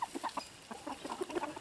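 Chickens clucking softly as they scratch and dig in a newly expanded run on an off-grid homestead, with a series of short, scattered clucks at a moderate distance and no talking.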